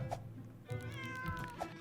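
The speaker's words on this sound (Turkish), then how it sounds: "Bir saattir miyav miyav miyav miyav miyavlıyorsun kedicik." Cat meows from the Roblox game, several short mewing calls over about two seconds, close and clear, with faint game background between them.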